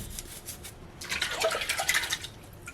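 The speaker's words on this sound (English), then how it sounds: "I'm just taking a bottle brush here." A bottle brush scrubs potatoes under water, starting with light, rhythmic bristle strokes and then shifting to louder, faster wet scrubbing with splashing, close up and without speech.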